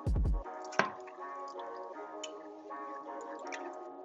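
Chicken stock is stirred into a pie filling in a pan, giving a brief thick plop followed by soft, wet squishing and a low sizzling hum.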